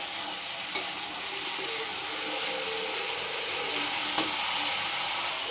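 Chicken feet stir-fried on high heat in a pan, a steady close sizzle and frying hiss running throughout with two sharp clinks of utensil against pan.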